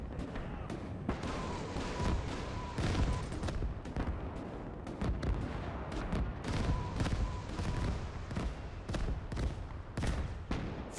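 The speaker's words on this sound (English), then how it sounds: "Behold the rocket barrage" Rocket artillery barrage in the Gates of Hell war game, a dense, continuous rumble of rapid launches and explosions, loud and sustained, with little talk over it.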